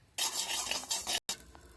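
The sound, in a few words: frying panch phoron and radhuni spices in a wok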